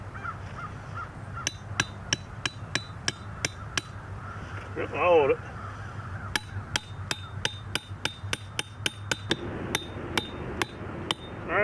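A hammer drives a trap stake into the ground in a long series of sharp, evenly spaced metallic strikes, close and loud, while crows caw nearby and a person speaks briefly.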